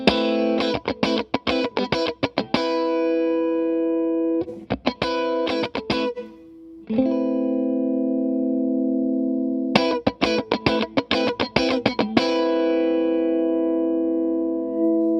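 Electric guitar chords through an Amazon Basics compressor pedal are strummed in short bursts, then left to ring out with smooth, even sustain, separated by brief pauses.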